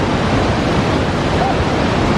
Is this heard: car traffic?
no